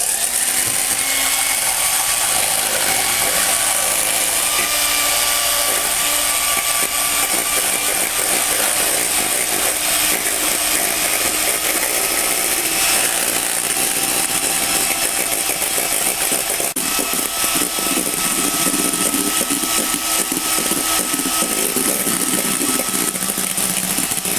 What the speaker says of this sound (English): we're going to beat the egg whites